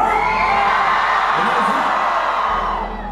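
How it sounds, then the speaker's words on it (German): A concert crowd at Schlachthof Dresden screams and whoops loudly for a rapper, a dense sustained roar of many voices that eases slightly near the end. "also schreit mal ganz laut"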